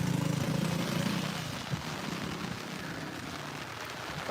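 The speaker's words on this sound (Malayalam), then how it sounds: "മഴ മാറിയില്ലോ" Rain falling at Purappillykavu bridge in Ernakulam, a steady broadband hiss of drops with low rumbling underneath, continuous and fairly close throughout.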